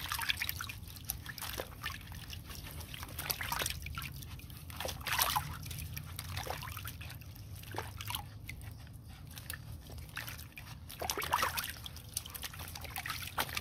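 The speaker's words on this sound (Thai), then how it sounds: "ทำความสะอาดเห็ดนะคะนี่ค่ะเราจะล้างนะคะ" Water runs steadily from a tap while king bolete mushrooms are washed, a continuous close trickle and splash with occasional sloshing as the mushrooms are handled.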